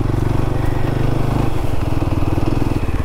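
A motorbike engine runs steadily as it climbs a rough trail toward a waterfall, a low rumbling drone that shifts pitch about halfway through, close and continuous with no talking.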